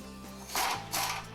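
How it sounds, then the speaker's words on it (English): Bolts on a Jeep Wrangler JK shock are being tightened with a ratchet, giving two quick bursts of clicking pawl ratcheting over a low mechanical hum, close and fairly quiet. "With all 3 bolts started and in position, we can go ahead and tighten them up"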